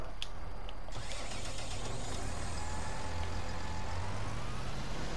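A tractor engine starting in Farming Simulator 19, a sharp click and burst followed by a steady loud diesel rumble that settles into a continuous idle, with a faint hiss of air over it.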